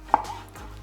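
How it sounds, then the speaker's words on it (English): A single sharp knife chop through a ripe garden jalapeno on a cutting board, one crisp close thud with a short tail and no talk. "What I do have is a ripe jalapeno though. That just came out of my garden. And I'm just gonna chop it up gently"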